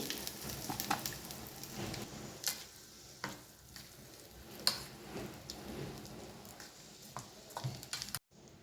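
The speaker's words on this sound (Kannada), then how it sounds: "ಕರಿಬೇವು ಹಾಕಿ ಸ್ವಲ್ಪ ಶೇಂಗಾ ಬೀಜ ಆ್ಯಡ್ ಮಾಡ್ತಾ ಇದ್ದೀನಿ" Curry leaves and peanuts sizzling in hot oil for a tempering, a fairly quiet crackling spatter with occasional sharper pops and stirring, ending in an abrupt cut.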